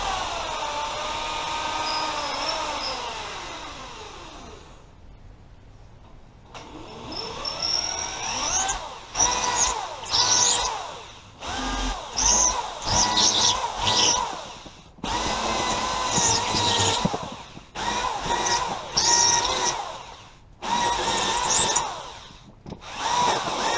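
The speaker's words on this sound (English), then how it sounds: "I'm using a hammer drill for this." A hammer drill bores into concrete for masonry screws while garage-entrance shed doors are fitted. Repeated loud, close drilling bursts of a few seconds each are separated by short pauses, with quieter handling noise before them.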